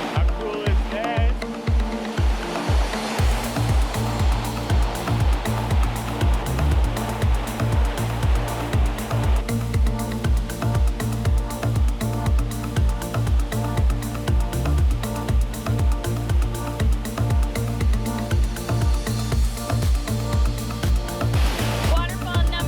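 Waterfall on a hike, a loud continuous rushing roar of falling water, close by and steady for the whole stretch, with a rhythmic pulsing low thump running underneath.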